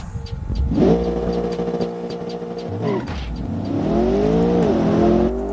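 Two cars, a Diablo and a Lax, are revving at the start line of a drag-style race in a This VS That tournament. Loud, close engines rise and hold in pitch, dip briefly, then climb again in a second strong rev with no talking.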